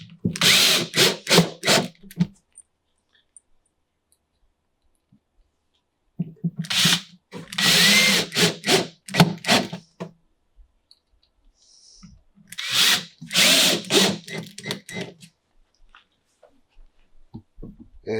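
A screw gun drives screws into a PVC rack in three separate bursts, each a loud whirring, clicking run of a couple of seconds, divided by long silent gaps.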